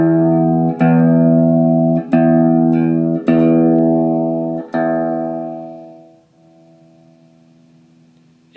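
Sustained guitar chords run through a Mr. Black Tunnelworm through-zero flanger pedal with the zero knob raised, struck four times and left to ring out and fade, with a sweeping, hollow tone and no talking.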